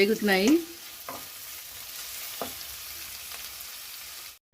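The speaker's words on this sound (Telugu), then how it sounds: "కొంచెం ఉల్లిపాయలు వేగాలండి. కొంచెం పచ్చివాసన పోయే వరకు వేగాలి." Chopped onions fry in a hot pan for tomato rice, giving a steady close sizzle with a few sharp stirring scrapes and a brief tonal clatter at the start.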